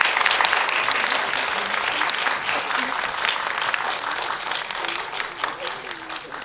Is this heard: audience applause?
yes